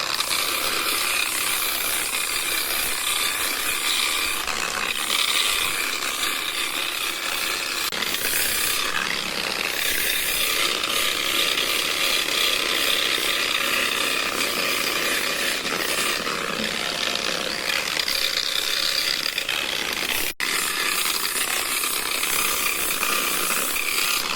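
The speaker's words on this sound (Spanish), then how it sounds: "ahora vamos a poner la lija del 120, la centramos bien" Sanding a polished Calatorao marble sphere with 120-grit sandpaper, a continuous raspy abrasive scrubbing with rhythmic strokes and a brief break midway, close and loud with no talk.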